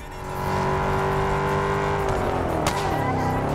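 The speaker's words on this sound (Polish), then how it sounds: "Moim zdaniem ten Mustang brzmi chyba najlepiej ze wszystkich dostępnych na rynku obecnie gier wyścigowych." A Ford Mustang's engine in the racing game Test Drive Unlimited drones loudly and steadily at high revs. The pitch holds and then dips and wavers near the end, with no voices.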